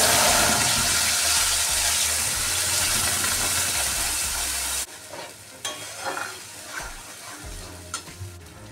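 Ground tomato paste dropped into hot mustard oil in a pan, a loud, dense sizzle for several seconds that cuts off abruptly, followed by quieter scattered stirring and scraping.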